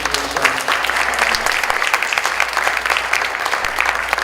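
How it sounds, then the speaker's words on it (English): An audience applauds after a lecture on addressing Islamophobia, with dense, steady clapping that fills the room evenly from start to finish at close range. "But if we can just give a quick round of applause for this awesome presentation."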